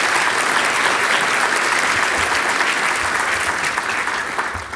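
A large audience applauds loudly and continuously, the dense clapping tapering slightly toward the end.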